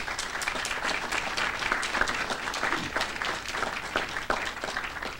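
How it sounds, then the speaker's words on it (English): Audience applause at a lecture on fifty years of self-government in the OECS, a dense, continuous wash of many hands clapping from a sizeable crowd, steady and full throughout. "I would like you to give them a round of applause."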